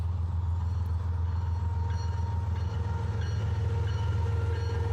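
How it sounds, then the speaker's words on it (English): A Pan Am Railways grain train rolls past near an airport on a cloudy day, a loud, steady rumble of wagons with faint clicking wheels, close by and with no talk. "One grain train going by."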